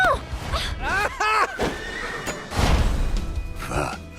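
A horse in a Disney animated film whinnies loudly a few times in quick succession amid a busy, dramatic score, with voices exclaiming between the neighs.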